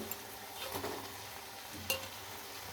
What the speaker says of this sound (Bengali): এবার আমি 2 মিনিট ভালো করে নাড়াচাড়া করে নেব